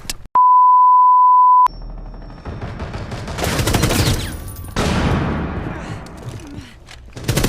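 Gunfire in the mobile video game Rainbow Six Mobile, a rapid burst of shots and impacts after a steady beep tone, continuing in bursts with game noise while a voice talks.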